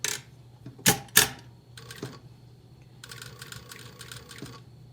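Sewing machine edge stitching a welt pocket on a breast pocket sample, heard as bursts of rapid mechanical whirring and clatter between a few sharp clicks, close and clear with no talking.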